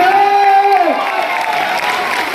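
Applause and cheering from an audience at a Modicare event in Panipat swell into a dense, steady wash of clapping and shouting just after a voice briefly speaks over a microphone.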